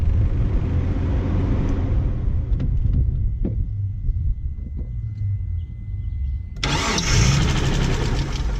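A Mitsubishi 3000GT VR4, unstarted for over two years with its fuel line disconnected, cranks over with a rhythmic low churning. It then catches with a sudden louder, brighter burst of engine noise near the end, heard up close.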